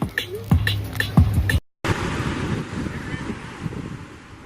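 Ocean waves and wind roll in at Laguna Beach, California, a steady broad wash of surf and gusting air after a brief burst of talking and clatter at the start.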